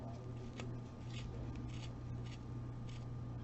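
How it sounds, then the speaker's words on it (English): Dull scissors cutting paper around a craft shape, heard as a faint series of short snipping and rustling strokes at an uneven rhythm over a low steady hum. "My dull scissors."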